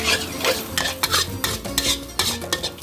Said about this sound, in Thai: แล้วก็ผัดไปให้ หอมก่อนนี่แหละค่ะ